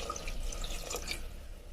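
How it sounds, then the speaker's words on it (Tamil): Water is poured into a pan of cooking eggplant curry, a short, light splashing trickle over a low background hum, close by and fairly soft, with no one speaking. "நெக்ஸ்ட் கத்திரிக்காய் வேகிறதுக்காக நம்ம தண்ணி ஊற்றுவோம்."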